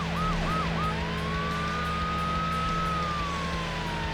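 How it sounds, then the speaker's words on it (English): Police car sirens in the racing video game Need for Speed: Hot Pursuit 2, with a few quick rising whoops followed by a long sustained wail over a steady engine drone and traffic noise, loud throughout. "You're gonna be hearing police sirens a lot, that's for sure."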